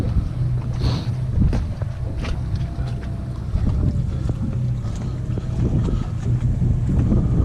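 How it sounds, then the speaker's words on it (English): Gusty 15 to 20 knot northeast wind buffeting a small fishing boat on the water, a continuous loud roar with rumbling microphone buffeting and no break. "Blowing out of the northeast, 15 to 20 today."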